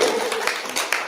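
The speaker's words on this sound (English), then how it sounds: "you can all clap really loud for him" Audience clapping for a guest speaker, an embassy political assistant, at an Earth Day climate talk; dense steady applause across the whole moment, moderately loud, with a few sharper claps standing out.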